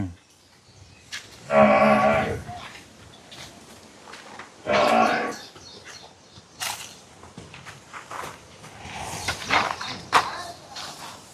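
A Murrah buffalo from Haryana lows loudly twice, deep drawn-out calls a few seconds apart, with quieter shuffling and faint voices in between.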